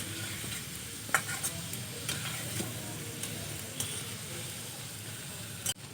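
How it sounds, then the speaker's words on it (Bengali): Gulab jamun sweets made with milk and biscuits fry in oil with a soft, steady sizzle, broken by a few sharp clinks of stirring. "মিষ্টিগুলো আমি এই কালার করে, গোল্ডেন কালার করে আমি ভেজে নিচ্ছি।"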